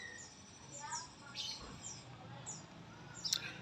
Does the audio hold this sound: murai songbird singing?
yes